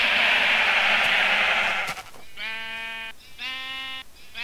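Fire crackles and hisses steadily for about two seconds, then a Minecraft sheep standing in fire bleats in two rapid, buzzing, repeated bursts, close and clear, with no talk.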